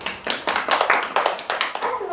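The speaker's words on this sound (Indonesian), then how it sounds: "Beri tepuk tangan dulu buat kelompok 1 yang sudah presentasi." Classroom applause for a presenting student group, a small group of hands clapping in quick, uneven bursts, close and fairly loud, with a voice speaking over it.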